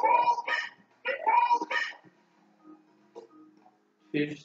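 Dog barking in the video game Yoshi's Woolly World, two quick pairs of yappy barks followed by soft ticking game sounds and a final bark burst.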